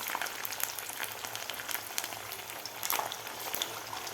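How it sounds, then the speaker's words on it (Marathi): Poha vadas dropped into hot oil in a home kitchen, bubbling and frying with a steady, dense crackle and hiss, close and fairly even throughout, no voices. "तेलसुद्धा आपलं व्यवस्थित तापलेलं आहे तर आता यामध्ये वडे सोडायचे आहेत आपल्याला"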